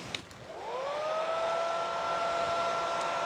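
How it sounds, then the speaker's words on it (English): A hair dryer blows steadily to dry paint on a handmade Santa Christmas sign, its whine rising as it spins up and then holding a constant close, loud tone. "I'm just putting this plastic wrap over my red paintbrush while I use the dryer to dry it off a little bit."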